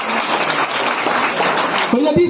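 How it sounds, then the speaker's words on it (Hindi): Loud applause from an audience at a Tallwinlife plan presentation, a dense, hissing wash of many hands clapping close by, ending as a short tonal sound cuts in. "एक बार जोरदार तालियां होनी चाहिए।"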